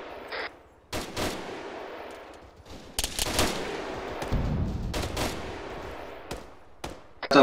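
Gunfire in the military shooter Arma 3: loud bursts of rifle and machine-gun fire with sharp cracks, scattered across several seconds over a steady battlefield rumble, with no speech.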